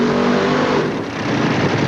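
A top-fuel dragster at the 1988 NHRA Motorcraft Ford California Nationals blasts down the drag strip in one steady, loud, harsh engine roar with a brief dip midway, alone with no voices.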